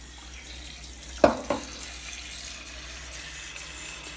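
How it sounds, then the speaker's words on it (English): Tap water runs into a pot in a home kitchen while a roasting turkey's giblets and neck are prepared for stock, a low steady stream broken by two brief clunks near the middle. "You gotta just put some water in it."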